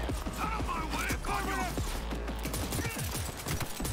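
Gunfire aimed at the player in Cyberpunk 2077 rings out as rapid bursts of sharp, clipped shots over a low game rumble and clattering effects, steady and dense throughout.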